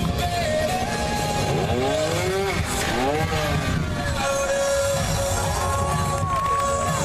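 A trial motorcycle engine revs hard and rises in pitch as it climbs a steep slope at a trial show, with a crowd murmuring and voices in the background throughout.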